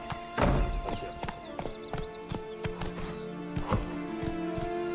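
Hooves of Roach, a horse in The Witcher 3, clop in a quick irregular rhythm with sharp close strikes, and a whinny rises among them.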